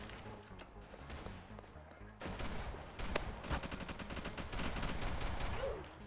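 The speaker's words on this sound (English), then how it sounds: "Oh, this is a shotgun." Gunfire bursts from a shotgun in an online first-person shooter modelled on Arsenal, loud repeated blasts layered over busy game noise and dense, continuous battle sounds, with no talk.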